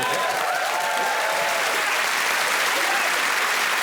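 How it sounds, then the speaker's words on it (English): A studio audience on the Taskmaster comedy panel show breaks into loud, dense applause for a contestant, a steady full roar of clapping with faint voices mixed in. "a round of applause for Mr."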